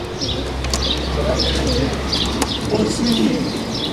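Pigeons cooing repeatedly nearby at a pigeon loft, soft rolling calls over a busy background with some chirps and occasional wing flutters.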